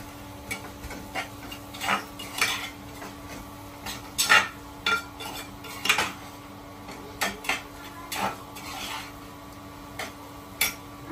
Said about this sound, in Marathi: हे सगळं आपण आता मिक्स करूया.